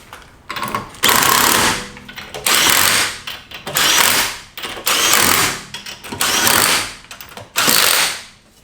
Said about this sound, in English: Go ahead and reinstall the rear wheel.